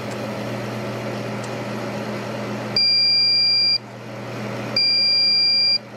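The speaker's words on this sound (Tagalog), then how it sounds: "Iba na naman yung beep codes niya." A desktop PC with no display sounds its motherboard beep codes: two long, loud, high-pitched electronic beeps, each about a second, separated by a pause, over a steady fan-like hum.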